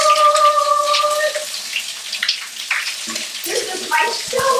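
A large shower runs with a loud, continuous hiss of spraying water, briefly accompanied by a tonal squeal as the tap is turned and some clattering near the end.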